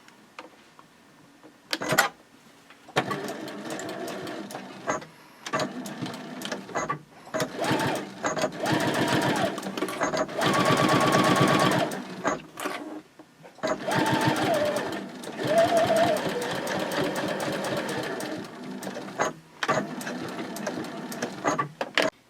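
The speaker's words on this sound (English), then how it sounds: "you'll stitch this second side in exactly the same way" Sewing machine stitching the second side seam of a fabric baby sling, running in several bursts of steady mechanical whirring separated by brief pauses, fairly close and loud.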